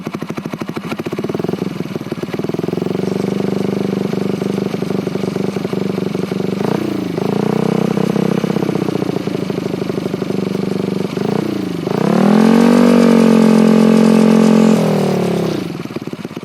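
A Yamaha NMAX scooter engine revving in repeated rising and falling pulls, loud and close, with the hardest, highest rev near the end before dropping back, no voices over it.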